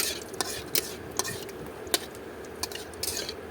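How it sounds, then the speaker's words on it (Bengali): Dried red chilies fry in oil in a wok under a continuous hiss, with a spatula scraping and tapping against the metal at an irregular rhythm. "তারপর শুকনো মরিচগুলো ভেজে নেব"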